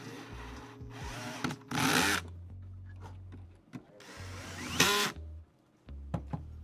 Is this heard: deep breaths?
no